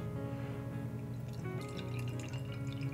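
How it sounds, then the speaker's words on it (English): Earl Grey porter beer is poured into a tulip glass, a continuous close liquid pour with fizzing and bubbling that grows brighter toward the end. "we're going to be pouring it into my Rouge River Fat Tulip style glass"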